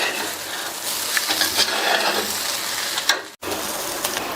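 Raw banana pepper curry stirred in a pan on the stove, a steady scraping and sizzling swirl of spatula against metal, close and continuous before a brief pause and a final stir.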